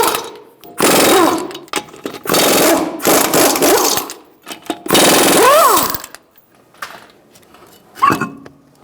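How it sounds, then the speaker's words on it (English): Lug nuts on a 2012-2017 Hyundai Accent 1.6L front wheel being spun off with a 21 mm socket on a power tool, several loud buzzing bursts of about a second each with short pauses between them. "using a 21 millimeter, we're going to take our wheels off."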